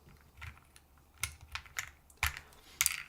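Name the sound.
typing on mechanical keyboard with swapped keycaps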